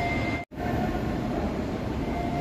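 A train rumbles steadily and loudly at a railway station in Ireland. The dense mechanical roar has no speech over it and is broken once by a very short dropout near the start.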